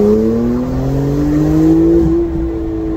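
Porsche 991.2 fitted with equal-length Kline headers accelerating hard in Sport Plus on wet roads, a loud in-car engine note rising steadily in pitch through the gear, then a brief dip near the end.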